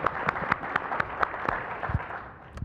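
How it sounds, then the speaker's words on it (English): Audience applause for a panel of speakers at a sustainability standards and certification event, a short round of scattered claps from a room of people, moderately loud and steady, fading slightly toward the end. "a quick round of applause for our panelists"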